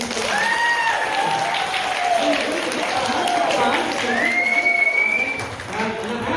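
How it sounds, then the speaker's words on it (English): Applause from an audience at a live children's book event, moderately loud and sustained, with excited children's shouts and cheers rising over the clapping. "a round of applause for KIRSTY"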